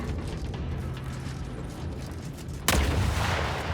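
A big cannon fires in a video game: a steady rumbling mechanical bed suddenly broken by one loud, sharp blast that leaves a heavy roar ringing after it.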